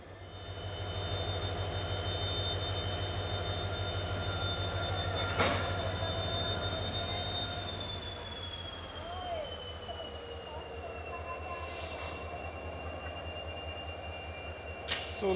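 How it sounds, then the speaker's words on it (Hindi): The Bengaluru Gandhidham Express stands at a Londa Junction platform with a steady low engine drone, a high sustained tone and faint squeals and clanks, while someone talks over it. "और लोंडा जंक्शन के प्लेटफॉर्म नंबर 2 पे आ चुकी है केसा बेंगलुरु गांधीधाम एक्सप्रेस।"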